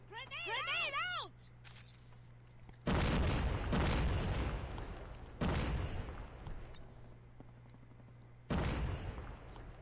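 Grenade blasts in a Call of Duty: Mobile tournament match, several heavy booming explosions spaced a few seconds apart, loud and close, over an ongoing steady hum and talk.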